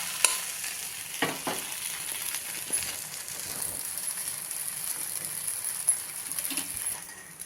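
A bottle gourd and semolina chila fries in a pan, a soft steady sizzle running throughout with a few scrapes and light taps of a spatula as it is turned, quiet and close.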